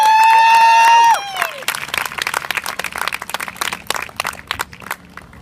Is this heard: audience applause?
yes